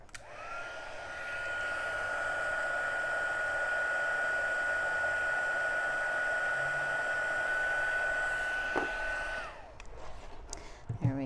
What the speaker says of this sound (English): Keep your fingers out from underneath this heat tool. We're gonna go ahead and let it warm up for a second